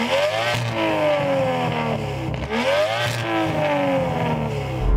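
An Aston Martin engine revs hard and close, its pitch climbing in repeated sweeping rises, loud and alone with no voices over it.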